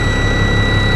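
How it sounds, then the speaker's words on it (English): A truck engine lugs down under load in gear while pulling against the set parking brake during a pretrip inspection, a loud, steady, low rumbling drone with a constant hum and no voices. "I can tell by the sound of the engine lugging down that my parking brake is holding"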